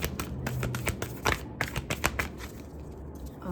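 Tarot cards being shuffled by hand, a quiet, close run of quick irregular riffling taps and soft flicks that continues steadily without talk.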